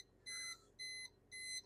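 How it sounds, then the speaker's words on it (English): Refrigerator door-open alarm beeping three times in a steady rhythm, each tone held for about a quarter second, clear and moderately loud in a quiet kitchen with no voices. "Just tell me the door's open with that beeping noise."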